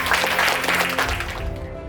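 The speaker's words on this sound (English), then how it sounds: "Let's give her a round of applause." Audience applause fills the room at an annual Educators of the Year dinner, honoring a teacher: a dense, steady wash of clapping from many hands that thins slightly toward the end.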